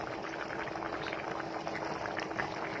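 Continuous bubbling and hissing of mutton biryani liquid at a steady boil in a pot, close and fairly quiet, with no voices.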